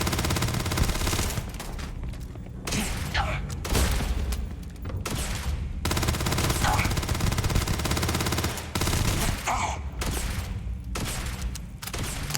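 Sustained automatic gunfire and explosive bursts from a Starfield firefight, dense rattling volleys repeating loudly across the whole stretch with brief gaps, a voice occasionally mixed underneath.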